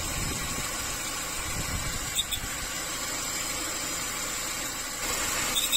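A Peugeot-Citroën engine with a worn clutch release bearing runs at a steady idle, a continuous close whirring hum with a faint high squeal riding over it.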